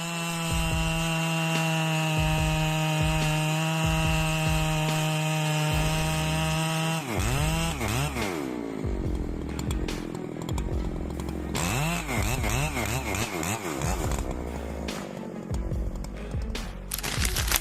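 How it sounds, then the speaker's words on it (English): Husqvarna 3120 XP chainsaw, a large logging saw that runs very long bars, idles steadily and then revs up to cut into a tree, its loud engine wavering as the chain bites through wood. "The primary applications for the 3120 XP are extreme logging, portable sawmills, and stump work."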